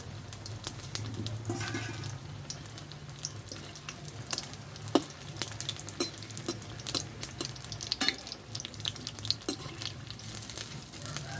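Potato chops (alur chop) frying in plenty of oil, a faint steady bubbling sizzle with scattered small crackles and stirring clicks, quiet and without talk.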